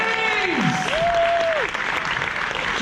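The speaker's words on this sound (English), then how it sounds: "keep that applause going" An audience applauds at Universal Orlando's Horror Make-Up Show, a dense, steady wash of clapping, loud and sustained, with brief whistles and shouts rising over it.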